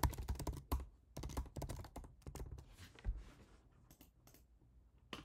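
Keys clatter on a computer keyboard in quick bursts of close tapping, pausing now and then, as a name is typed into a software application.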